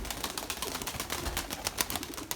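Pigeons burst out of an opened loft, a steady flurry of wingbeats and fluttering close by with scattered coos and bird calls, no talk over it.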